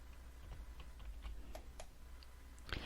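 Typing on a computer keyboard in a quiet room: faint, scattered key clicks at an irregular pace over a low hum, with a small cluster of taps near the end.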